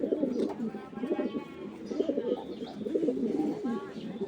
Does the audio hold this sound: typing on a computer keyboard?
no